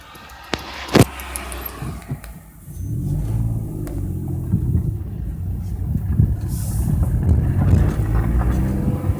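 A car approaches on an open road, its engine rumble swelling steadily from faint to loud over several seconds, preceded by a few sharp clicks and knocks nearby.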